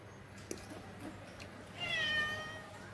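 A cat gives a single clear meow about two thirds of the way through, close and moderately loud over a quiet household background with a few soft knocks.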